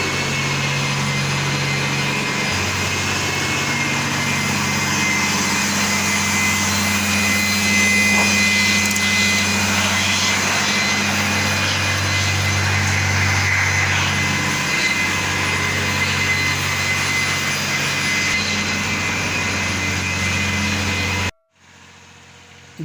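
A tractor engine runs loudly and steadily at a construction site beside a mosque, a constant mechanical drone with a heavy low rumble, continuing without a break before cutting off abruptly near the end.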